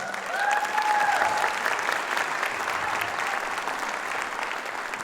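Concert audience at a wind symphony performance applauds student musicians, a sustained, even wash of many hands clapping in a hall, fairly loud and continuous throughout.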